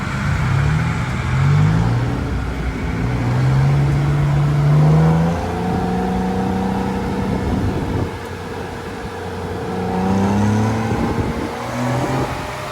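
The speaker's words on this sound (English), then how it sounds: "you're going to ride in my first tuk-tuk, which is this little kind of motorcycle slash bus cabin bench seat little vehicle" A tuk-tuk, a small motorcycle-based cab with a bench seat, rides through traffic in Thailand, its mid-pitched engine revving up and easing off repeatedly, close and loud amid road and wind noise.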